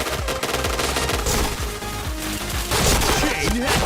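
Rapid, dense automatic gunfire in a first-person shooter game, loud and continuous, with overlapping bursts and game effects filling the whole stretch.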